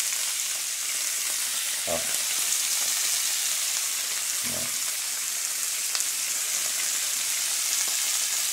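Flank steak seasoned with herb salt sizzles steadily in a frying pan, a constant close hiss with a couple of soft clunks, and one brief spoken word.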